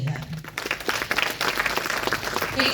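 An audience claps for almost three seconds. The applause is dense and steady, with some voices mixed into the crowd noise.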